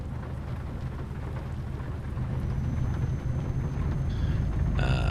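Steady rain hissing and pattering in Euro Truck Simulator 2, with a low rumble beneath like distant thunder; the downpour holds constant and grows a little heavier toward the end.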